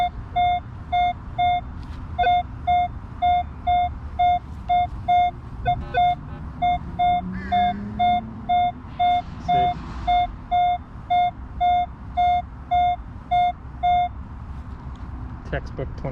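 A Minelab Equinox 3.0 metal detector sends out a steady run of short, evenly spaced beeping target tones over a low rumbling background. The beeps are fairly faint and repeat rhythmically throughout.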